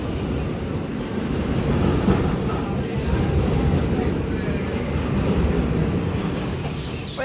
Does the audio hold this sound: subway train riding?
yes